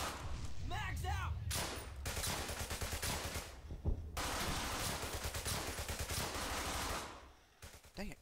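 Sustained gunfire in Brothers in Arms Hell's Highway, dense machine-gun and rifle volleys rattling almost continuously with brief gaps, close and loud, with faint voices mixed in before it drops away near the end.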